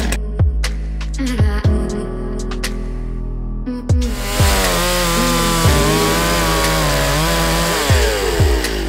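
A chainsaw, the speaker's father's, cuts through a fallen tree on a mountain bike trail, engine droning loud and close with revving surges, idling dips and sharp bursts as the chain bites the wood.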